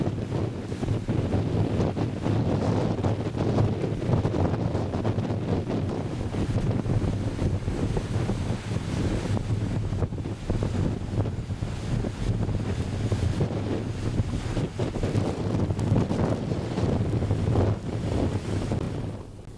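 Strong wind buffeting the microphone on a wet, rainy, windy day near a coastal village during a transatlantic cruise stop, a constant loud roar with rumbling gusts and no clear pauses.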